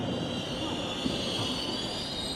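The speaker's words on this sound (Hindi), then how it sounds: "ट्रेन प्लेटफॉर्म नंबर 1 पर पहुंची" Train pulling into railway platform number 1, a steady close rumble with a sustained high wheel squeal over it and no clear pauses.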